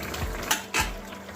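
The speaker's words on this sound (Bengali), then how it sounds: "ঢাকাটা খুলে নিচ্ছি।" A metal lid is lifted off a cooking pan of prawn, potato and eggplant curry, giving a few faint, soft metallic clinks and taps.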